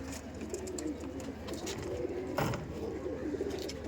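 Punjabi pigeons coo softly and continuously in low murmuring tones, with light rustling and a brief flutter or thump midway.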